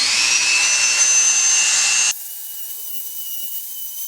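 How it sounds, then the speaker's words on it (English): A Dremel rotary tool grinds into a walnut wand handle with a high, steady whine for about two seconds, then drops abruptly to a faint, thin hum. "use a Dremel tool and knock out what we can"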